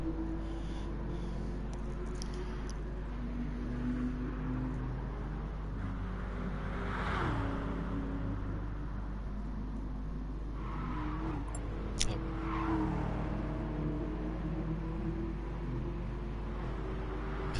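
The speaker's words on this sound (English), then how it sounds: "Lovely drifting there by Screechy." Engine of a Gran Turismo-style Gr4 race car in a racing video game, drifting through an infield section, revving steadily throughout with a brief tire screech near the middle, constant and moderately loud, no talk.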